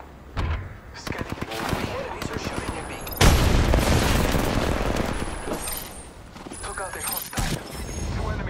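Rapid bursts of gunfire crackle through a battle in Apex Legends, with automatic fire and single shots in dense volleys, a heavy barrage near the middle, and voices calling out over the shooting.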